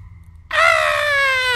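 A person lets out a single loud, sustained scream that starts abruptly and holds for over a second, close and harsh, over a low background hum in a horror game setting.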